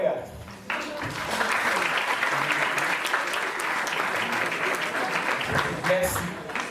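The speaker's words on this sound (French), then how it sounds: "Applaudissez-vous très fort" A school theatre audience of teenagers at a festival in Alexandria breaks into loud, sustained applause, dense clapping that holds steady for several seconds with a few shouts mixed in before tapering off.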